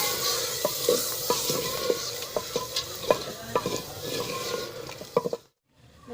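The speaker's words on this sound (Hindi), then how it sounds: "अब इसको अच्छी तरह से भूनना है।" Masala with tomato, red chili, turmeric and garlic paste frying in a pan for chong gosht, a loud steady sizzle broken by frequent sharp scrapes of a spoon being stirred through it, ending abruptly in silence.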